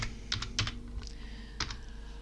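Someone types a folder name on a computer keyboard: a few quick clusters of crisp keystrokes, close and clear, in an otherwise quiet room.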